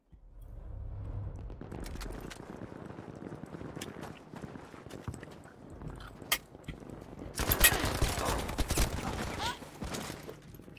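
Submachine gun fire in a multiplayer shooter game, a dense run of rapid shots building to a louder burst near the end, with clatter and movement sounds throughout.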